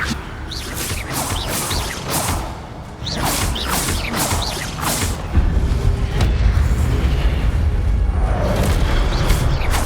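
Levioso spells cast in Hogwarts Legacy, a run of quick magical whooshes and bursts with booming impacts, several in succession, loud and close, giving way to a denser rumbling stretch.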